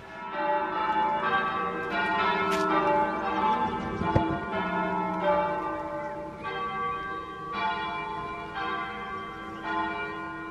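Church bells ring in a steady, overlapping peal, rich and resonant, continuing throughout without any talking.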